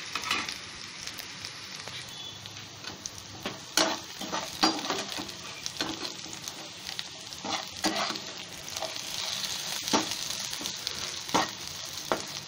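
Pieces of yam (jimikand, suran) sizzle in a pan while being turned over, a continuous hiss of frying broken by irregular scraping and clinking of the spatula against the pan, fairly close and with no voices.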